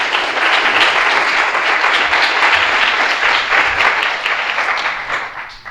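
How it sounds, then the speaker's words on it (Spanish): An audience at a data science meetup applauds steadily for several seconds, a dense wash of clapping that tapers off slightly at the end. "Así que un aplauso para ella."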